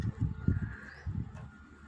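A bird, stated to be a sparrow, gives soft low cooing calls close by in a few short repeated phrases, with faint background noise.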